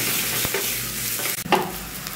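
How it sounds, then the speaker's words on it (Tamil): Onions sautéing in oil with dried red chilies, cumin and curry leaves as a tempering for rasam, an even close sizzle broken by a few sharp stirring scrapes near the end. "கருவேப்பிலை புரிஞ்சோடனே வெங்காயத்தை போட்டு நல்லா வதக்கிக்கலாம்"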